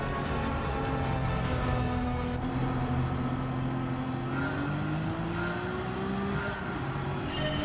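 Race cars start a Gran Turismo 7 race at Dragon Trail, their engines droning and rising in pitch as they accelerate together, with steady layered tones and no talk.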